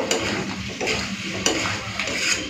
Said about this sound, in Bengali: এরপরে আর কিছুক্ষণের জন্য কষে নেবো, তাহলে হয়ে যাবে মাংস কষা